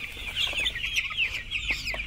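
Chickens in a poultry shed during vaccination cluck and chirp continuously, a dense, close chorus of fowl calls with no talk.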